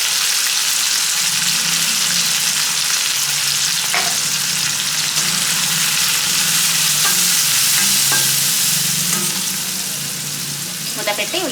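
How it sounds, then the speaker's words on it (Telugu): Sliced onions with turmeric fry loudly in a pan, a dense continuous sizzle with stirring scrapes and clinks throughout that eases slightly at the very end. "మూత పెట్టి ఉల్లిపాయలను ఒక 2 నిమిషాల పాటు మగ్గనివ్వాలి."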